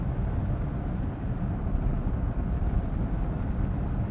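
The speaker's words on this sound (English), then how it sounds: "you can just hear that low drone now, it's like a turbine" A Daimler Double Six V12 accelerates on the road, giving a low, smooth, turbine-like drone heard from inside the car, steady and fairly quiet throughout with no talk.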